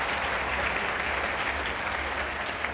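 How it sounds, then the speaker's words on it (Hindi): An audience claps steadily at a stage event, a dense continuous round of applause at moderate loudness. "मैं चाहूंगा इनका और जोरदार तालियों के साथ स्वागत किया जाए।"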